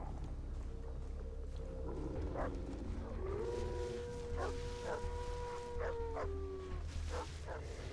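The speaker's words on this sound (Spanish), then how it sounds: "se escuchan perros" Distant dogs in the video game Far Cry 3 bark and howl in scattered bursts over a steady ambient background, fairly faint.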